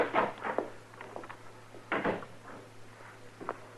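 Jail door opening in a radio drama, a cluster of wooden clunks and latch rattles, with a louder knock near the start and another around two seconds, over a faint steady hum.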